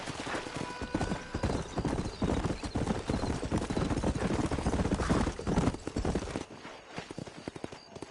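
Horse hooves clip-clop rapidly at a gallop in the Western video game Red Dead Redemption, loud and close, with a brief whinny and faint game voices mixed in.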